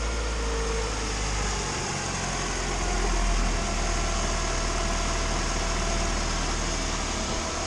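A turbocharged Honda engine idles steadily as it warms up through its first heat cycle after installation, a loud, constant, close-up rumble with no speech over it.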